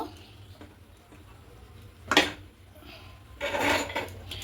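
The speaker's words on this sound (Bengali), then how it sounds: "রেখে এবার এই কড়াইটা বসিয়ে দেব" A metal kadai wok is set onto a tawa griddle preheated on high heat, now over a low flame, giving two short metallic clanks and scrapes close by against a faint background hiss.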